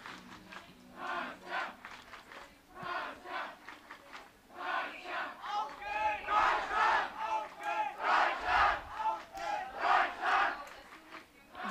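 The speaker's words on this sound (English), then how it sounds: "It's always nice to hear the crowd cheering the athletes on." At a European Youth Cup compound archery final in Sofia, a spectator crowd cheers and chants in loud rhythmic waves, swelling and fading repeatedly and building stronger toward the end.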